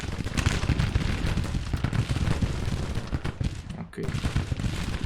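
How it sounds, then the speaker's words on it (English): Dismounted cavalry firing Maynard carbines in a Civil War battle in Grand Tactician, with a dense, continuous crackle of rifle volleys and overlapping shots, loud and sustained with a brief lull near the end. "Let's dismount. We can fire faster. We do have the Maynards here."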